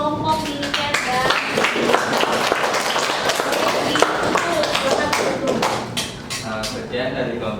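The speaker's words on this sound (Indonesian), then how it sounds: "tepuk tangan untuk kelompok militer" Classroom applause for a presenting student group, dense rapid clapping from many hands held at a steady level for several seconds, with voices mixed in underneath before it tapers near the end.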